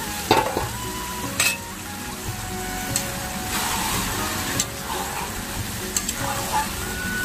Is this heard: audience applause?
no